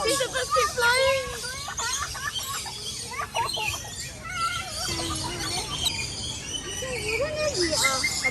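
Birds call and chirp in an aviary at Jurong Bird Park, with repeated clucking and whistled calls rising and falling over a steady background bustle while people talk nearby.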